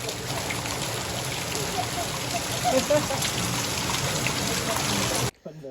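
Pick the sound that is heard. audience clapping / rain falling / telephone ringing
rain falling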